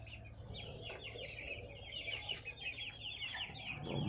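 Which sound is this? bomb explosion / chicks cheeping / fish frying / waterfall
chicks cheeping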